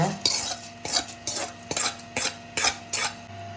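A spoon scrapes and stirs lemon juice through cooked rice in a metal pot, eight or so rhythmic strokes close up with light clinks.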